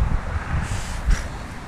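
Gusty wind buffets the microphone with low rumbling puffs and a brief airy whoosh, rising and falling over a couple of seconds.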